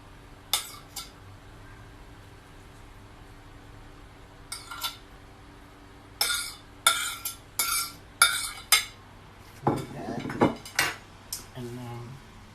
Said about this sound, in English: we are gonna fill it with some yummy turkey veggie mix.